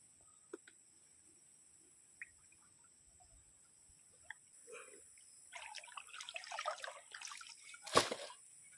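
Water trickles and splashes from a cleared drain pipe outlet of a farm fish pond, starting with sparse isolated drips, then building into an irregular gurgling flow with a sharp splash near the end.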